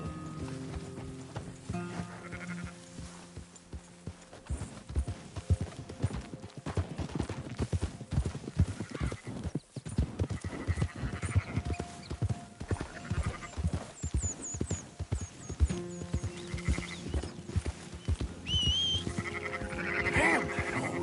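Horse hooves clip-clop in a steady, busy rhythm in Red Dead Redemption 2, with scattered bleats or whinnies and game ambience mixed in, moderately loud throughout.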